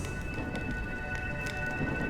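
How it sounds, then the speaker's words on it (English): Rain falls steadily in the Honkai Star Rail video game, a dense, even hiss of drops with a faint thin tone held underneath, and no talking. "When will this rain ever stop?"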